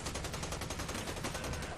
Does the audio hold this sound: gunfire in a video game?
yes